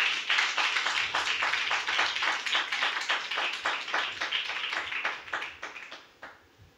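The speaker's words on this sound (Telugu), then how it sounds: "నమ్మితే చప్పట్లు కూడా తీస్తున్నామని కనపరచమ్మా" A church congregation at a fasting revival prayer meeting claps hands in steady, rhythmic unison, a dense run of sharp claps that holds strong for several seconds, then thins and fades out near the end.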